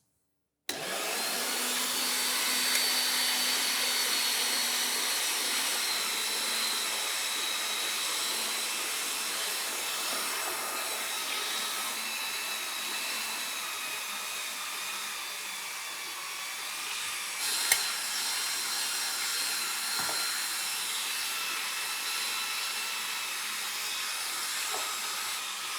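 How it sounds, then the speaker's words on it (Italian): An electric meat grinder grinds lard and beef, a continuous whining motor hum that starts abruptly and runs steadily, with a faint clunk partway through. "Vado a macinare con il tritacarne il lardo e la carne."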